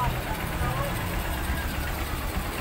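A TMX Supremo motorcycle engine runs after an overhaul, a steady close rumbling idle filling the short stretch without pause.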